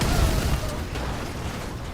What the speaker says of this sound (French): C'est comment dire que t'as fait quelques explosions ici hein.